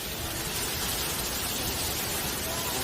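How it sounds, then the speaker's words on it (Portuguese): Heavy rain pours down in a storm, a dense, unbroken hiss of water that stays loud and uniform from start to finish. "veremos como a forte chuva está castigando"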